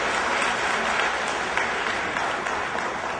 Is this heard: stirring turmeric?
no